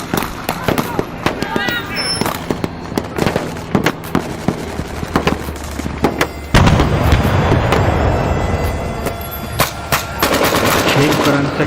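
Gunfire in a tank battle: rapid machine-gun bursts and scattered shots crackle throughout, with a heavier rumbling blast about halfway, loud and dense, mixed with a voice.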